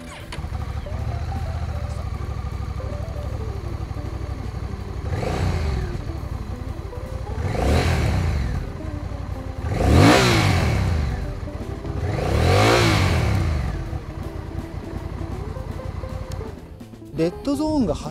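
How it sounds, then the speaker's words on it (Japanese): A Honda Rebel 1100 motorcycle with an 1100cc engine and six-speed manual gearbox starts from idle, then revs hard toward its 8000 rpm redline in four loud, sharp, close rises with a voice heard briefly. "それではエンジンをスタートしたいと思います。"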